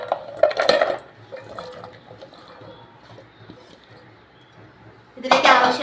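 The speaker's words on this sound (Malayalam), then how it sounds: "ഇതിലേക്ക് നമുക്ക് കപ്പ ഇട്ട് കൊടുക്കാം." Chopped tapioca pieces tumble into a cooking vessel with a short, loud clatter, followed by quieter kitchen shuffling and a second clattering burst at the end.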